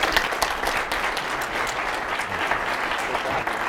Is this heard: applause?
yes